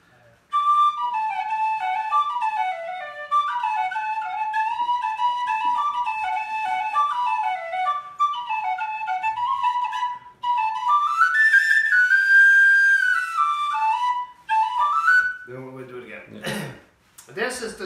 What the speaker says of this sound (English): Lovely, soft sounding whistle, and very, very popular.